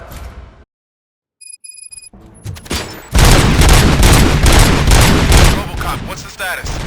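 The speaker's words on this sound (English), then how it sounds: "Gunshots? What's going on?" Gunfire bursts out in a Robocop: Rogue City shootout, with a few sharp shots first and then a loud, dense, sustained fusillade of rapid automatic fire filling the last several seconds, close and intense.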